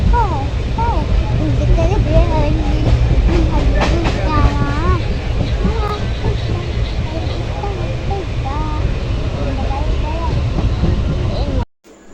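Continuous rumble and rattle of a moving train heard from inside a carriage in Kerala, a steady loud din with faint chatter and singing voices mixed into the background.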